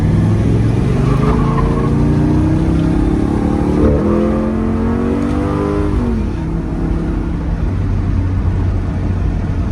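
A 1967 Pontiac GTO on new tires revs hard during a flyby, a loud rising engine roar that shifts in pitch mid-pass, then settles into a steady rumble.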